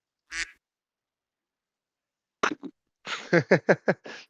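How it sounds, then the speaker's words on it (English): A soundboard plays duck quack effects: one lone quack, a pause, then a short double quack and a quick run of five or six loud nasal quacks, close and dry against silence. "Was that a duck?"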